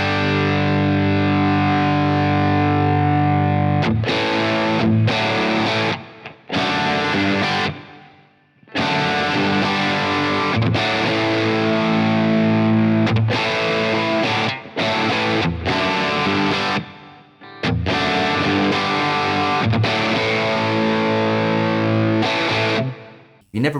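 Overdriven electric guitar on a Synergy Tone King Imperial MK2 preamp lead channel with the mid-bite turned up for Marshall-style crunch, loud strummed chords and riffs broken by a few short pauses, no voices.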